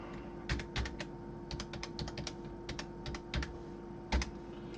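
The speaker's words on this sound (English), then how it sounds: "So I'll retype that in." Keystrokes on a computer keyboard come in short irregular bursts of typing with pauses between, close and fairly quiet over a steady low hum.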